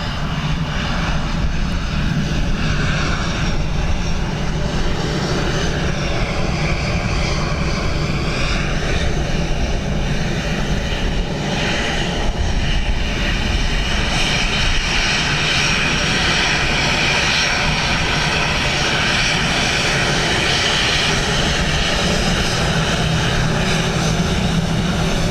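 An airplane lands at Dublin Airport in a crosswind, its engines giving a loud, continuous roar with a shifting whine that holds steady for the whole stretch, heard from a spotting position with no one talking.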